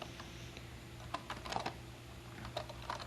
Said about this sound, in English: I just typed the list command across the serial port from the Model 102 over to the X16.